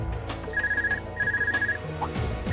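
A telephone rings in the video game Trails of Cold Steel II, a close electronic trilling in two repeated bursts with a short pause between, over faint background ambience.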